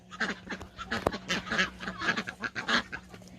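Ducks, including a crested one, quacking in a backyard animal yard, a rapid run of close, loud, nasal quacks and honks in uneven bursts with no pause.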